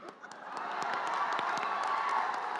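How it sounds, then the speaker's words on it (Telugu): Clapping and cheering from the audience at the Gangs of Godavari film pre-release event, a crowd roar that swells after a brief moment and holds steady, with scattered claps over it. "చప్పట్లు కొట్టు"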